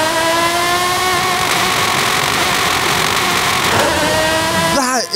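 A car engine in Forza Horizon 5 revs hard and steadily climbs in pitch toward its redline, loud and close, then drops off abruptly near the end.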